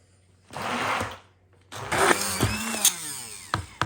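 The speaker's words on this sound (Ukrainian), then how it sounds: "я переб'ю блендером" A blender whirs in two bursts, the first short and the second longer and rougher, with the motor pitch wavering as it churns thick curd cheese.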